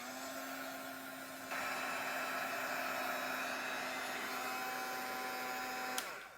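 An electric dryer blows over a mixed media plaque, a steady whine and rushing hum that jumps louder after a second and a half, then cuts off near the end with a small click.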